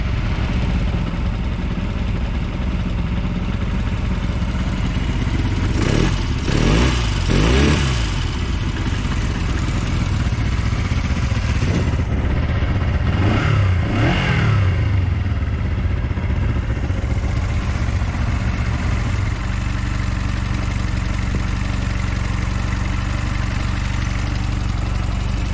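Honda CB125 twin motorcycle engine idling steadily close by, with several short throttle blips rising and falling in pitch midway before it settles back to a low, even idle.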